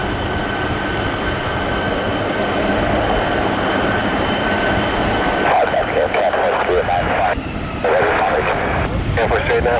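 A Royal Canadian Air Force aircraft departs Toronto Pearson International Airport with a loud, sustained engine roar that shifts partway through, while radio voices talk over it.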